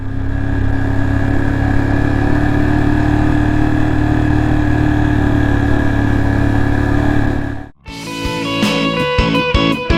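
A motorbike engine on a steep, cloud-covered mountain road gives a loud, steady drone, briefly cuts out near the end, then returns as a choppier, pulsing idle.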